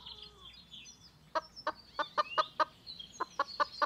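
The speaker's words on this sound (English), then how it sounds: "I fed the chickens" Chickens clucking nearby in a quiet setting: a series of short, sharp clucks in an uneven rhythm, faint birdsong behind them.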